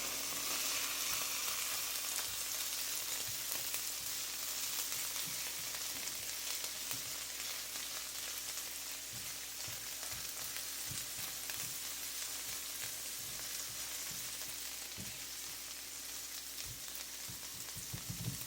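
Broccoli and onions sauté in a hot pan, a steady, close sizzle and crackle running throughout with occasional stirring clicks.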